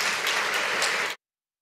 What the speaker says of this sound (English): So I'd like to for us to give a round of applause